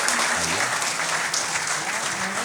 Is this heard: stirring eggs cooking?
no